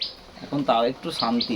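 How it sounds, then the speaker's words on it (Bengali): A common tailorbird gives a few sharp, high chirps in a rainy monsoon setting, heard briefly between and under a person's talking. "টুনটুনি পাখিটা ডাকছে কোথা দিয়ে"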